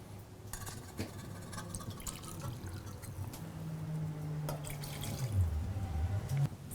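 Whiskey pours into a glass for a whiskey punch, a steady trickling liquid stream close by with small clinks, rising slightly toward the end.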